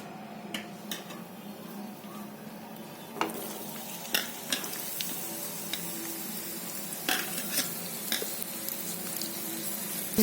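Oil heats in a pan before karadai (safflower) greens are cooked, giving a soft, steady sizzle. Scattered clicks, taps and scrapes of utensils against the pan break through now and then, with no voices.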